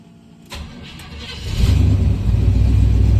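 A car engine cranks and fires up after an ACES Killshot EFI Black Jack distributor install, preceded by a fuel pump hum, then settles into a loud, steady idle close by.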